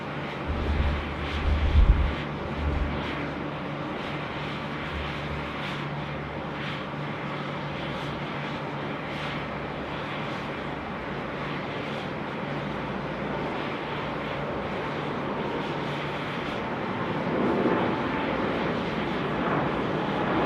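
An airliner coming in to land on runway 34 left at Sydney Airport, a steady distant jet roar and broadband rumble that holds evenly throughout, with no voices over it.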